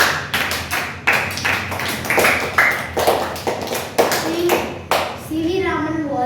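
A classroom of students claps for a classmate who has just finished an English practice sentence, several bursts of applause with sharp, dense hand-claps that rise and fade, followed briefly by a voice.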